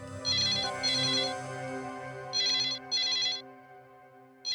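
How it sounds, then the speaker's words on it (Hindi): A telephone rings in four electronic bursts, two pairs separated by a short gap, loud and clear over a low background hum with no talk. "शायद किडनैपर का फोन होगा।"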